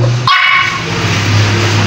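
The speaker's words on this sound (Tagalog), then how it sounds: "Pag kumakain kami mga kapartner, tumatahol siya, nangingi ng pagkain." A hungry dog barks once and then whimpers for food indoors at home, the sound close and loud, with a steady whining tone that lasts through most of the short stretch.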